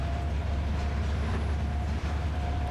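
A locomotive in the rail simulator Trainz 2022 throttles up in a yard, producing a steady low engine drone with a faint constant whine, continuous and unbroken throughout.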